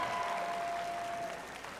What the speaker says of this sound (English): Round of applause for Suzanne Hosfeld and Kramer Sneed.